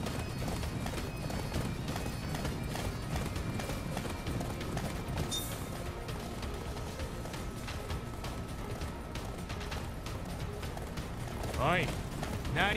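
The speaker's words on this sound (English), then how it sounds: "So I could have got a better horse if there were any better ones." Rhythmic hoofbeats of a galloping horse in the video game Attack on Titan: Wings of Freedom run steadily under game music and voices, with a brief horse whinny near the end.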